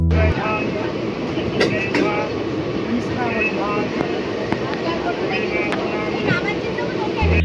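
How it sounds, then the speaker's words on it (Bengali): A train pulls into Khana Junction station in East Bardhaman, heard from on board as a steady, loud rolling rumble with occasional sharp clanks and rattles throughout. "দেখতে দেখতে ট্রেন এখন প্রবেশ করছে পূর্ব বর্ধমানের অন্যতম আরেকটি জংশন স্টেশন খানা জংশনে।"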